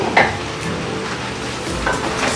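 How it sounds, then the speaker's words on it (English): Food sizzles steadily in a pan while being stirred, with soft scraping and a couple of brief utensil clinks against the cookware, close and continuous throughout. "Stir a bit."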